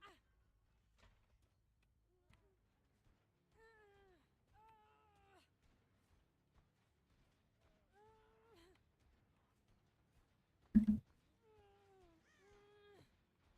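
A cat meows several times, soft and fairly close, in short rising-falling calls spread across a quiet stretch, with one brief louder thump partway through.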